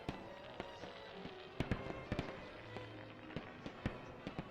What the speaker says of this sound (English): Cue the fireworks.